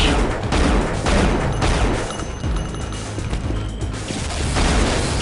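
An enemy fires rockets in the video game Unreal, producing dense, continuous blasts and crashing explosions that layer over one another at close range, loud throughout.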